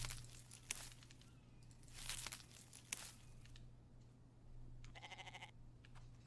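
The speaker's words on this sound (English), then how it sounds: "I hear you, goat." A goat in a survival video game bleats in a short wavering burst near the end, after scattered rustling, crinkling and soft footsteps over a low steady hum, all fairly quiet.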